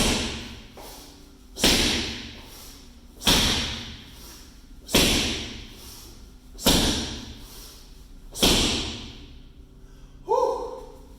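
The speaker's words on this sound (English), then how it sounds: "Today let's do ball slams though." A medicine ball slams onto a gym floor six times at a steady pace, each heavy thud ringing off and decaying before the next, with a brief tonal sound at the end.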